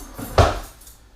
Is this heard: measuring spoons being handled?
yes